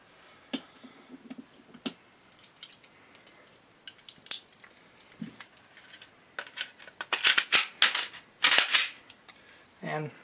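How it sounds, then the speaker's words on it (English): Gen 4 Glock 19 pistol being reassembled, fitted with a new recoil spring: sharp metallic clicks and snaps scattered through the clip, close by, clustering into louder rattling clacks toward the end. "let me go ahead and put it back together real quick"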